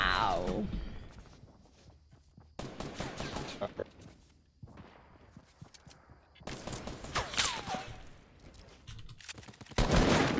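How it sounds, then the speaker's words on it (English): Bursts of gunfire in a battle royale video game crack out at varying distances, rapid volleys and single shots mixed with a player's voice calling out. "They're shooting from north, 15."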